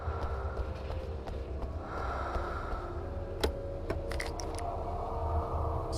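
Heavy, ragged breathing in the video game Alan Wake 2 rasps low and close over a murky ambient rumble, with scattered faint ticks and clicks toward the end.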